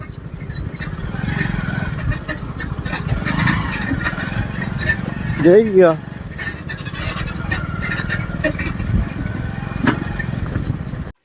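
A New Holland tractor engine drones steadily as it drives nearby, a continuous low rumble with some clattering and a brief louder surge, while people talk briefly.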